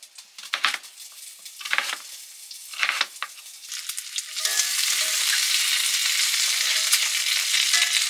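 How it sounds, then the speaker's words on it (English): Chicken breast and sweet potato hash frying in a pan, a loud steady sizzle that rises after a few seconds of scattered clinks and stirring. "I have some chicken breast I'm going to fry up and sweet potato hash"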